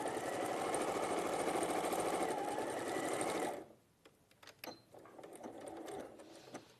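Domestic sewing machine stitching fabric seams, loud and close, running steadily for about three and a half seconds before stopping, followed by quieter handling clatter.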